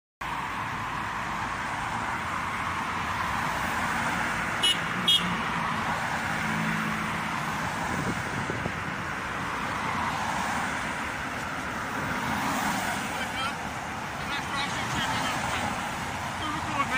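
Traffic streams along a five-lane road outside a prison, a continuous broad roar of passing cars and buses with a couple of brief horn toots, while people talk nearby.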